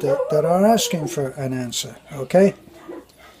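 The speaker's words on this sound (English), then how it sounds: "sorry about the dogs and the chickens" Dogs yip and whimper close by in high, wavering cries while a person keeps talking over them, with chickens also about, in a rural Philippine setting.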